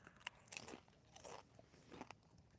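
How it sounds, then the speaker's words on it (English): Mild salsa on chips being chewed close to the mouth, with several crisp crunches in an irregular rhythm, quiet and with no talking. "Can you hear the crunch, Terry?"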